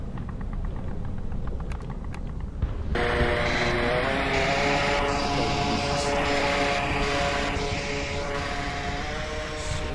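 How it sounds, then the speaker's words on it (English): A video game drone flies with a steady whirring, buzzing engine drone, loud and continuous, with game background noise underneath. "I'm gonna use your drone to try and find them."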